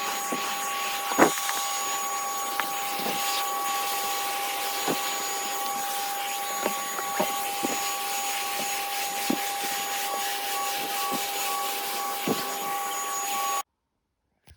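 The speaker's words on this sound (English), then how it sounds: "So I'm going to give that a quick hoover too, because obviously that can get dust build up in it as well." A vacuum cleaner runs continuously while hoovering a DJ flight case, a steady loud whine with occasional knocks and scrapes as the nozzle bumps the case, then cuts off abruptly near the end; no talking.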